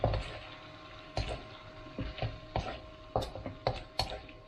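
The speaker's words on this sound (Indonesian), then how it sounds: "Kita aduk agak lama supaya bumbu meresap dan ayamnya empuk." Chicken and seasoning stirred in a pan with a utensil, giving irregular clacking scrapes and knocks against the metal, about a dozen distinct strikes over a faint background hum.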